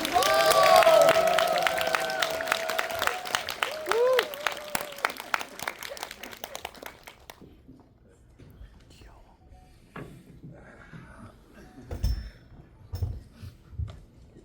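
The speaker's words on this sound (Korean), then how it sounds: "봉준호 감독님 입장하실 때 큰 박수로 맞이해 주시기 바랍니다" Audience applause in a packed Dolby Cinema auditorium at Megabox COEX welcoming director Bong Joon-ho to a Mickey 17 GV talk; dense loud clapping fills the first seven seconds, then fades to a quiet room with scattered thumps.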